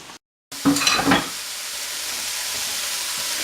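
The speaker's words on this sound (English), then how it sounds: "right now we're just going to hang out and caramelize some onions." Onions sizzle in a pan in a steady, close hiss after a brief silent gap, with a short clatter of stirring near the start.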